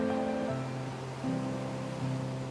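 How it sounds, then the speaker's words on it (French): The bouillonnante Aven river rushes and breaks over a rock-strewn bed in Pont-Aven, a steady, full roar of churning water with no voices. "encombrée de roches, sur laquelle se brise la bouillonnante rivière Aven"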